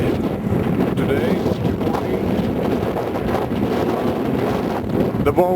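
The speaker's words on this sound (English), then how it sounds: "It's a very windy day today." Strong wind gusts buffet the microphone on a frozen lake while a net is set under the ice, a loud, rough, continuous rumble with faint creaks on top.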